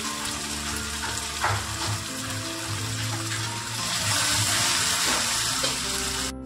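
Onion and ground spices sizzle in oil while a spoon stirs them around a pan for rohu fish biryani, a continuous close frying hiss with occasional scraping strokes.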